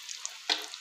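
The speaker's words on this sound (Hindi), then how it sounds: "इसको हम डीप फ्राई करेंगे। हल्का सा ऑयल तो हमने डाल दिया फ्राई पैन में।" Bread fingers deep-fry in oil in a frying pan, giving a soft sizzle that swells into a louder bubbling burst midway, then settles back to a steady crackle.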